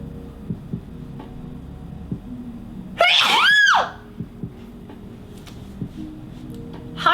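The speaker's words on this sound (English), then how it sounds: "I need to sneeze." One loud sneeze bursts out sharply and stops, with quiet room noise and small clicks before and after it.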